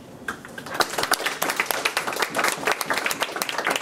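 An audience claps in welcome for a speaker at a lecture on the medieval Sarum chant. The applause is dense and steady, a crowd of many hands fairly close, with no talk over it.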